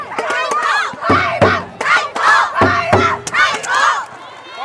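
School supporters cheer and shout at a provincial high school basketball final, loud bursts of crowd yelling and rhythmic chants rising and falling with short gaps between.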